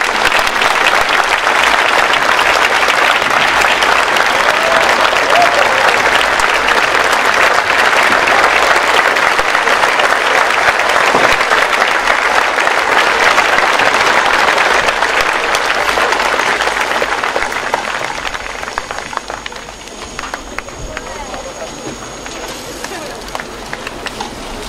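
An audience applauds at a Goochland High School JROTC commissioning ceremony, with sustained, even clapping for about eighteen seconds that then fades to quieter room noise.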